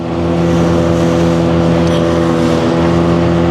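A motorboat engine drives a fishing boat at sea toward the fairway, a steady, loud, close droning hum with no speech.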